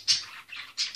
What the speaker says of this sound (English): the birds are chirping in the background.